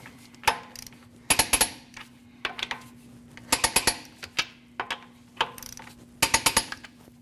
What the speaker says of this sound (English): we're going to torque these at 100 foot-pounds in a crisscross manner